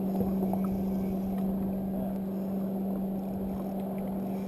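A jet ski runs on open water during a fishing trip, its engine a steady, droning hum with constant rumble and wind-like hiss, holding an even level throughout with no voices.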